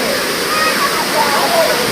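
The steady rushing roar of Nhavankond waterfall near Devgad fills the background while someone talks over it.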